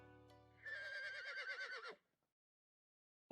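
A horse whinnies in Birushana Senki, one clear wavering neigh lasting over a second, close and alone against silence, followed by a brief sharp sound at the very end.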